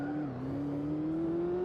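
A Formula 1 car engine revs steadily upward in Automobilista 2 through Monaco's Saint Devote corner, a loud continuous whine climbing in pitch, with faint tire squeal underneath.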